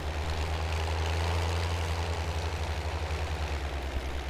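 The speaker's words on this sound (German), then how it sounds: "für so einen alten Diesel hört er sich verdammt gut an" A low, steady old East German diesel tractor engine idles in Farming Simulator 19 with a deep rhythmic rumble and chugging throb, continuous and fairly loud with no talking.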